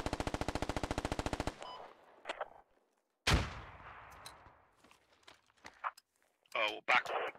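In the video game Squad, a long rapid burst of automatic gunfire gives way to quiet, then one loud close blast that decays into a rumble, with shorter bursts and faint voices after.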